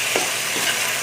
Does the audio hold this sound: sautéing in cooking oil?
yes